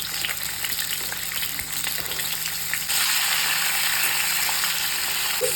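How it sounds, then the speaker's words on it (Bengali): Sweet potato, carrot and papaya pieces fry in hot oil with a dense, continuous crackling sizzle that swells louder and brighter partway through, close and steady with no talking. "তেলটা গরম হয়ে গেছে, এবার আমি সবজিগুলো ভেজে নেব।"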